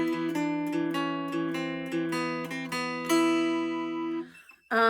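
Guitar notes picked one at a time in a steady pattern, the picked bass string walking downward as higher strings ring above, ending with a brief scrape.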